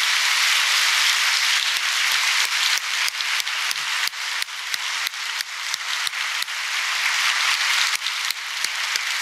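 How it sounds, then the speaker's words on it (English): Audience applause at a university State of Christopher Newport address, honoring a vice provost who stands: a steady, sustained wash of many hands clapping across a large hall, loud and unbroken throughout, with no voices over it. "I want Jeff to stand so we can give him a rousing round of applause"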